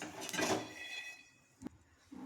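Freshly roasted peanuts tipped from a pan onto a plate to cool, a brief clattering rush of nuts with a light metal clink, then a couple of small knocks.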